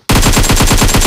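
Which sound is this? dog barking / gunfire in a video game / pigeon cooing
gunfire in a video game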